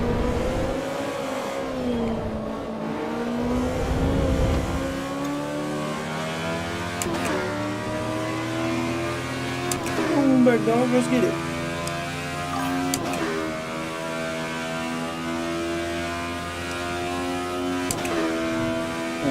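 Race car engine in Assetto Corsa EVO, a harsh, buzzy note that climbs and drops through gear changes as the car brakes and accelerates, with someone talking briefly over it.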